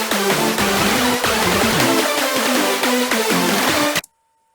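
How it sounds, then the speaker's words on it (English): A 90s Eurobeat-style orchestra hit sample stabs in a rapid rhythmic run, loud and bright, for about four seconds before cutting off abruptly. Nothing else plays alongside it. "You can also do this with an orchestra hit."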